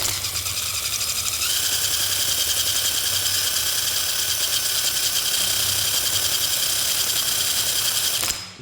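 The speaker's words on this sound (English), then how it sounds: "when this turbine really gets to spinning" A homemade wind turbine built from a scooter wheel spins fast with a steady, loud whirring hum and rattle that rises in pitch shortly after starting, then cuts off abruptly at the end.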